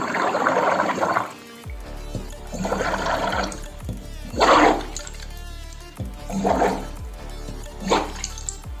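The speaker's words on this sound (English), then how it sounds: "we are going to pour this butane gas can into this liquid mix soap" Butane gas sprays from a can into liquid soap in hissing, bubbling bursts, several separate gushes of a second or so each, with frothy splashing between them.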